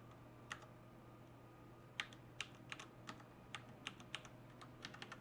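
Keys clack on a computer keyboard in short, irregular bursts of crisp clicks, fairly close, over a low steady electrical hum and otherwise quiet room.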